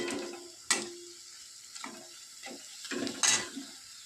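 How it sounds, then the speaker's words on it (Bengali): Coriander leaf fritters fry in oil as an evening snack, a quiet sizzle punctuated by a few sharp clicks and scraping touches of a utensil in the pan. "এই যে বড়াগুলো ভাজতে শুরু করে দিয়েছি"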